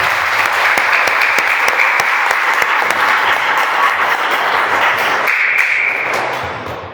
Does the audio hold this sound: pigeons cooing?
no